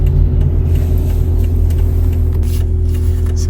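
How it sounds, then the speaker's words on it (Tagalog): Traffic on a busy street in Japan on a Saturday, with steady engine rumble from several passing cars that stays loud and continuous, and no talk. "medyo traffic ngayon no kasi araw ng Sabado kasi sa Japan guys kaya medyo maraming sasakyan talaga"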